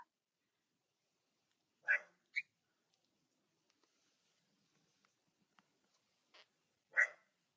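A puppy barking at someone at the front door indoors: a few sharp barks at the start, a brief pause, then a couple more, fairly near, with quiet gaps between.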